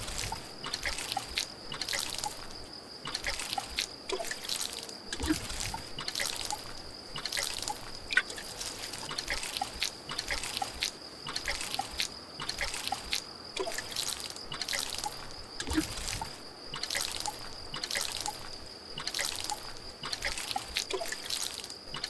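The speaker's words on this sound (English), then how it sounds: "Let me water my crops first." Crops being watered in the video game Grimshire: a steady string of light, repeated drips and trickles of water, evenly paced and fairly close, with no talking.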